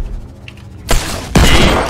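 Two loud, sharp gunshots in Fortnite crack out about half a second apart, close and punchy, after a brief quieter lead-in.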